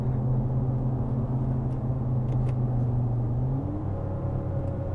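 Simulated V6 engine note from the Active Sound system of a Mercedes X-Class X250d 4MATIC pickup, a steady deep droning hum with a slight rise in pitch near the end, heard from inside the cabin with no talking.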